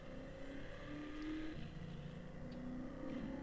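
A race car in Trackmania Turbo drives at steady high speed, its engine droning continuously with slight pitch rises as it accelerates, loud and unbroken for several seconds.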